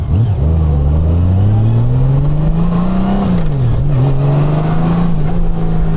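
A 2025 Honda Goldwing motorcycle in sport mode accelerates hard. Its loud, steady engine note climbs in pitch, dips briefly as it shifts, then holds a strong drone close by.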